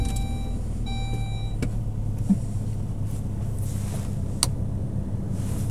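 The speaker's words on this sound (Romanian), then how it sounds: "și dau un pic de contact" A parked 2002 Saab 9-3 Aero has its ignition switched on, giving a short run of bright electronic chime tones in the first second and a half. A steady low hum sits underneath and continues through the quiet cabin.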